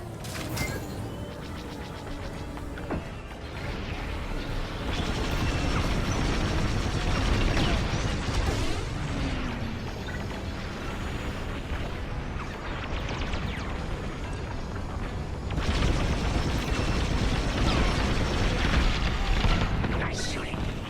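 Explosions and mechanical rumble from blasting Imperial shuttles in Star Wars: Squadrons, a sustained roaring din of booms and engine noise with swells of heavier blasts throughout.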